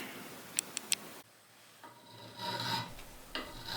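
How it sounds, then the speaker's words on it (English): Rasping file strokes work a bowie knife's coffin-shaped handle, a few sharp clicks first, then steady close scraping passes alone. "A little bit of filing."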